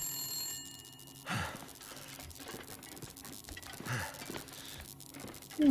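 An old telephone bell rings in The Long Dark, a couple of faint bursts spaced apart under breathing, gasps and soft rustling, followed by a sharper sound at the end.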